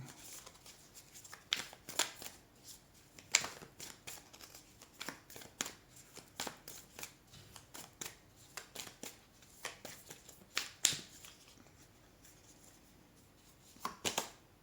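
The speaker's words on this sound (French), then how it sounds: "j'ai tiré la carte avec ma main droite, parce que je fais jamais" Oracle cards are shuffled and drawn by hand, producing a string of soft, close riffles and papery flicks in irregular bursts, separated by quiet pauses.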